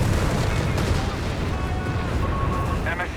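Machine gun fire in Company of Heroes 3 rattles densely and continuously amid battlefield booms and artillery, loud and close throughout, with a commentator talking over it.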